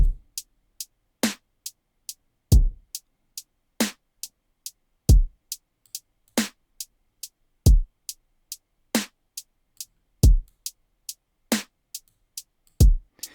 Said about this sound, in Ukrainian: Ми накидуємо реверб на кік.